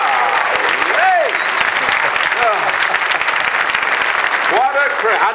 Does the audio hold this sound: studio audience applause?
yes